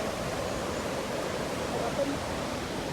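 Steady broadband rush of the Pa Nueang waterfall in the rainy season, a continuous even roar of falling water heard alone throughout.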